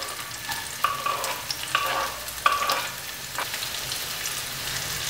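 Onion and salami fry in a pan with a steady sizzle while a utensil stirs and scrapes several times against the pan.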